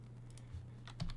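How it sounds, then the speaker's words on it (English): A few sharp clicks of keys pressed on a computer keyboard, a short cluster of close taps near the end, with faint hum beneath. "I'm gonna hit G on the keyboard"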